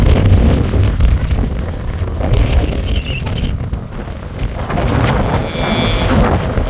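Strong wind at Perpignan airport, France, roars and buffets the microphone continuously, a loud, gusting rush with low rumbling.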